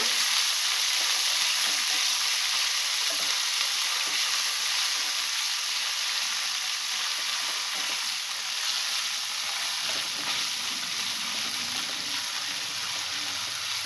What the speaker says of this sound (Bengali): কাঁচা গন্ধটা চলে যাওয়া পর্যন্ত একটু ভেজে নিলাম